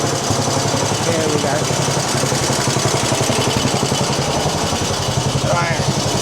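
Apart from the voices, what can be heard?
walk-behind cultivator engine revving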